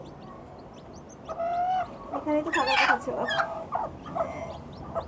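A brooding hen with newly hatched quail chicks makes soft clucks while thin, high chick peeps sound close by, mixed with a person speaking quietly.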